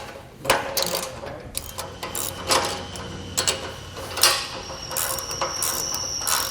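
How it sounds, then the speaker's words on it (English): A ratchet tightens the hanger bolts on a Malone EcoLight Sport trailer, giving steady rapid pawl clicking in repeated close strokes with brief pauses between them. "then we're going to tighten down these bolts on the hangers"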